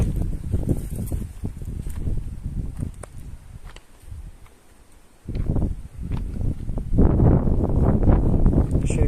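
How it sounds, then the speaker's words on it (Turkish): Gusty wind buffets the microphone in heavy rumbling bursts, easing briefly in the middle before roaring back stronger, with faint rustling and steps on a narrow clifftop path. "Rüzgar biraz aman vermiyor."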